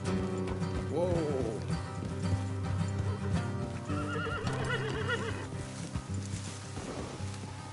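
Horses in the video game Red Dead Redemption 2 give loud whinnying neighs over rhythmic clip-clopping hoofbeats on a road, with other game sounds in the background.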